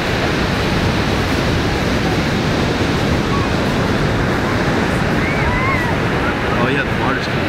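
Steady roar of ocean surf at Huntington Beach, a loud, unbroken wash of breaking waves with heavy wind buffeting the microphone and faint voices underneath.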